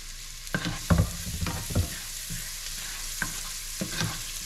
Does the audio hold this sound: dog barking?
no